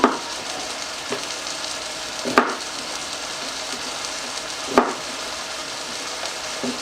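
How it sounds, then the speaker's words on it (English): Steady sizzling of an English roast frying in a pan, a continuous crackle with a couple of brief louder knocks, no voices. "it's sizzling really good"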